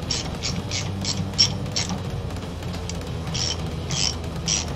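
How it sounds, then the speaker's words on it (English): Ratchet with an Allen socket works foot peg bolts loose on a Harley Dyna, giving bursts of quick close clicks in two runs separated by a short pause. "It's on a socket, on a ratchet."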